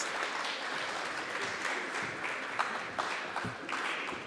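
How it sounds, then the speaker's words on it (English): An audience at a SANTACO Gauteng and TETA gathering applauds steadily, a dense wash of clapping with a few sharper claps standing out. "With a round of applause,"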